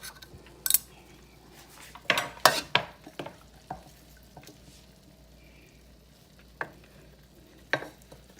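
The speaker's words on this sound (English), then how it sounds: "I'm going to put the carrots down by the cabbage." Carrots go down beside cabbage in a roasting pan for corned beef, heard as scattered metallic clinks and clatters of utensils against the pan. Sharp taps come in irregular bursts over a quiet background.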